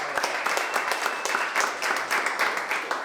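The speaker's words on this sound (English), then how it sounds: "Please give him another round of applause." An audience applauds at a Columbus City Council campaign kick-off, dense continuous clapping from many hands held at a steady, moderately loud level throughout.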